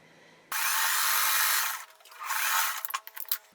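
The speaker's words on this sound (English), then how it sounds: "I'm going to sew on my top square, and I'm going to do it with a 1/4 inch seam allowance" A sewing machine stitches a quilt square with a quarter-inch seam, running in a loud close whir for over a second, pausing briefly, then resuming in short uneven bursts.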